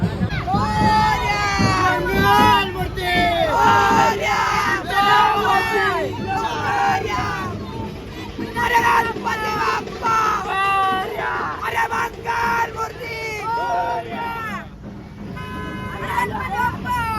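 Big, noisy crowd on a street during a Ganpati immersion procession, a dense babble of many voices with shouts and car horns tooting through heavy traffic, continuous and close throughout.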